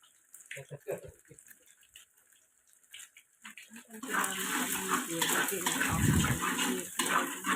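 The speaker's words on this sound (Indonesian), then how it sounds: "Kita orak-arik dulu telurnya, kita oseng-oseng dulu telurnya sampai matang." Scrambled eggs being stirred in a pan for a home-cooked cabbage and green bean dish: scattered light utensil taps at first, then a loud, steady sizzle with scraping that continues to the end.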